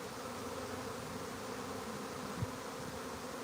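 A honeybee swarm on a farm gives a continuous low buzzing hum that holds steady throughout, with a faint bump of nearby handling sound near the end.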